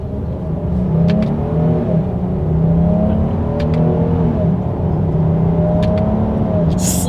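A 2021 Jeep Grand Cherokee L three-row SUV with air suspension accelerating hard down a straightaway, engine note climbing steadily through gear changes with a continuous loud rumble and whir from inside the cabin.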